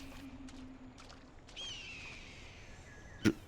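In the video game Far Cry Primal, a bird gives a few faint chirps against a quiet ambient bed, then a longer drawn-out whistling call, followed by a sharp brief knock near the end.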